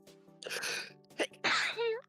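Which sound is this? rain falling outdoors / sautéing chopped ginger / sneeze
sneeze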